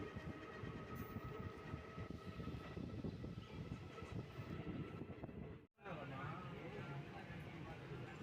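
A train pulls out of Anakapalli station, its steady rumble and wheel noise filling the carriage from inside, with a voice speaking over the continuous rolling sound.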